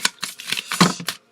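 Tarot cards being shuffled and drawn, a quick run of crisp papery riffs and slaps, about half a dozen close, distinct flicks in a little over a second, then quiet.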